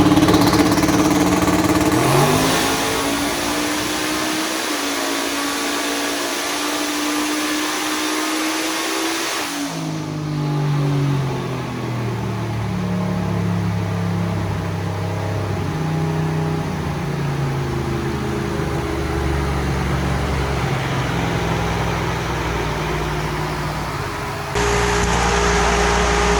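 A Gen V LT small-block V8 in a Chevrolet Nova pulls hard on a dyno, its steady loud roar rising in pitch through two gears with a sharp shift drop midway before the engine is cut at the end.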